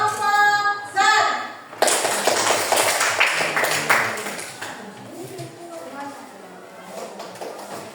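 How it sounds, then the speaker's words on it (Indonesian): Students in a classroom applaud a student group after its presentation, a burst of dense clapping that fades out over a few seconds, with voices talking before and after. "Oke, kita berikan aplaus untuk kelompok SAT."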